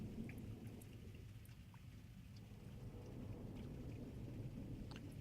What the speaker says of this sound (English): I'm not sure if you can hear the rain,